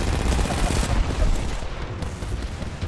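Rapid gunfire from weapons in the battle-royale shooter Apex Legends, a dense, loud burst of shots running continuously throughout with little break.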